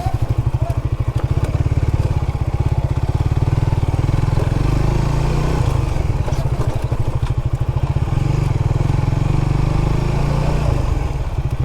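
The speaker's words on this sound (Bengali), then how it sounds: "দেখি কতটুকু যাওয়া যায় বাইক নিয়ে।" A motorbike rides along a poor, rough rural road through a remote riverside char village, its engine chugging loud and close with a steady rapid pulse and rattling clatter from the bumps.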